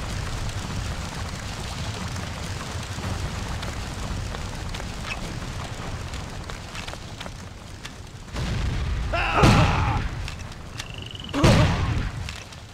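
Explosives blowing up a cannon emplacement in a Civil War battle video game: steady battlefield rumble, then two heavy booming blasts with crackling debris, the louder one near the end.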